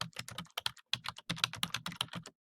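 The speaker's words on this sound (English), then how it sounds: "type in information from your interviewee and from the Occupational Outlook Handbook" Fingers type on a computer keyboard in short rapid bursts of crisp key clicks, close and dry, with a brief pause in the middle and no voices.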